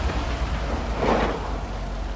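Steady rain falls in the dark world of the video game Little Nightmares 2, a dense continuous hiss that swells briefly in the middle, with no talking over it.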